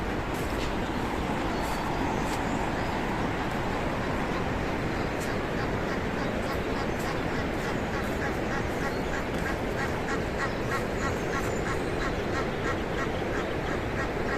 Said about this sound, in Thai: โอ้ยนี่เจ้าเป็ดน้อย